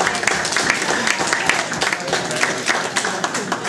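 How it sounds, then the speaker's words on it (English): Audience clapping at a community event at the Riverdale Y, a steady dense patter of many hands filling the whole stretch at moderate loudness, with a voice faintly audible underneath. "feel free to clap, you should"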